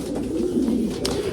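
Racing pigeons coo in a garden, a soft, low, throaty warble held close and continuous for a moment.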